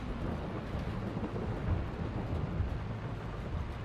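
A steady thunderstorm in a farming game: a continuous heavy roar of rain and rumbling thunder, dense and unbroken, with no voices.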